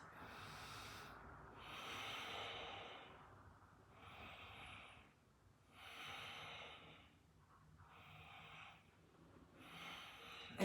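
Slow, deep breaths are drawn in and let out during a hatha yoga pose, about five or six long, even cycles, close and soft, with no talking.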